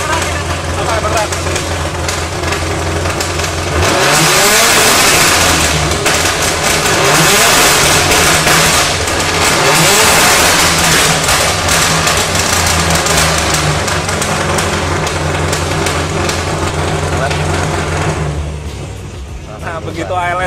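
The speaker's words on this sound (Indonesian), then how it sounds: "saat ALS-nya nyalain, anti-lag ini nyalain, langsamnya menjadi naik, dan ada ledakan-ledakan konstan ya" Subaru Impreza STi rally car with its anti-lag system switched on, a loud, steady, close engine roar with raised idle and constant popping detonations, held for most of the stretch before easing slightly at the end.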